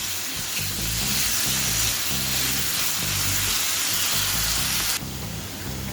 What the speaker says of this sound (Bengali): আলু আর গাজরটা ভেজে নেওয়া হয়ে গেছে, এবার আমি তুলে নিচ্ছি।